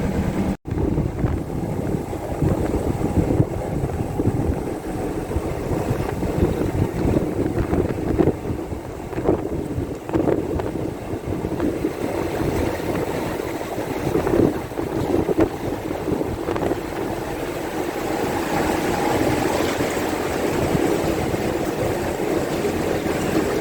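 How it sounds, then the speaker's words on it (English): Strong wind buffets the microphone on an open boat deck, a continuous loud rumbling roar with gusty surges and the wash of water beneath. "the wind's blowing me here as well. It's really bad out here."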